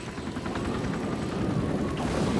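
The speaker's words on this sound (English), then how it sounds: "Fly the damn chopper, Jack." Helicopter in flight inside a sci-fi action film, a steady rotor drone and chopping wash that fills the scene continuously and stays loud throughout, with no voices over it.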